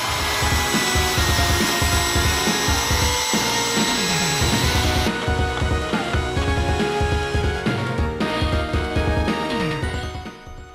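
A cordless stick vacuum cleaner, either a cheap Chinese model or a Dyson V10, runs continuously with a loud, close high-pitched motor whine and rattling, shaking sounds over it.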